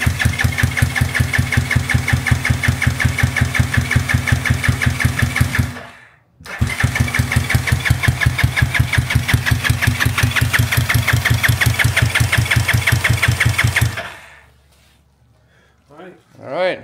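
A rebuilt 212cc 4-valve small engine cranks with a steady rapid chugging, pauses briefly, then cranks again for several seconds before stopping; a faint voice follows at the end.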